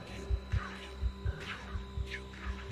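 A sound-effect heartbeat thumps in low, paired double beats at a steady, slightly quickened pace, with a faint murmuring voice and low hum underneath during a tense true-crime narration.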